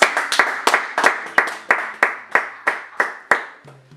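Rhythmic clapping from a church congregation acclaiming the Lord, about a dozen sharp, evenly spaced claps that are loud and near, ending abruptly.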